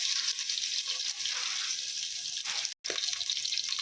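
Onion and garlic frying in a pan for a fish curry give a steady, close sizzle that runs almost continuously, broken only by one short silent gap near the end.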